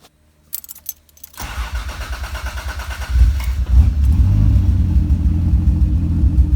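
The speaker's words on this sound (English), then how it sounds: "Just turn it on real quick." A tuned and freshly cleaned engine cranks briefly, catches and settles into a steady, smooth idle that grows slightly louder midway, close and clear with no talking.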